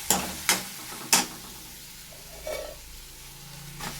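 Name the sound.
washed poha added and stirred into fried masala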